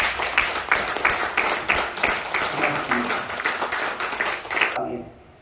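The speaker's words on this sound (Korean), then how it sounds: "박수 한번 쳐주세요" Church congregation at Sunday worship giving a round of applause, a thick burst of many hands clapping with a faint rhythmic pulse, ending abruptly into near silence.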